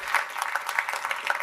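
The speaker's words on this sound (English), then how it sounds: "Round of applause for Enablin." Applause from an office audience at a corporate speaker event, a short burst of many hands clapping in a steady patter, moderately loud and fairly close.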